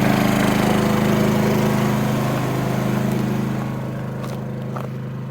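A Honda engine-powered snow-clearing machine runs close by in deep snow, its loud, rough, pulsing engine chugging steadily and easing slightly as it moves off.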